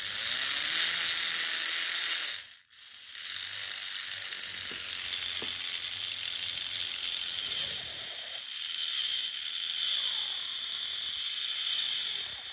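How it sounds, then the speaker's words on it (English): A small geared electric motor in a Roundhouse Boxcab track cleaner model railway kit runs with a steady, close buzzing whine and a faint ratcheting gear texture, briefly cutting out once before running on evenly. "Motor doesn't have a lot of torque"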